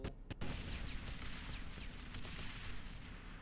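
Heavy turret gunfire aboard a dropship in Star Wars Republic Commando, a dense loud barrage of booming shots with sharp bursts near the start and a continuous rumbling roar after.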